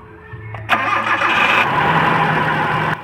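A car engine with a hard-starting, low-power fault cranks briefly, catches, and settles into a steady, loud idle that runs on without any talking.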